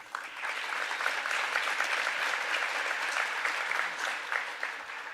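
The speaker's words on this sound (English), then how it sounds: "Let's have another round of applause for our Community Choice winner" Audience at a startup pitch competition applauds the Community Choice winner, a thick, continuous roar of clapping from a large crowd, loud and even for several seconds with no speech over it.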